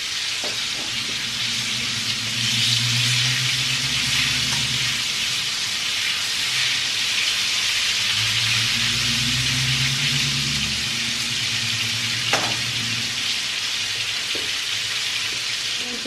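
Pieces of chicken for Korean fried chicken fry in hot oil, giving a steady, close, crackling sizzle that swells and settles over the whole stretch with no one talking.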